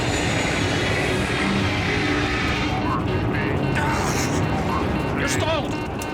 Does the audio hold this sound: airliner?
yes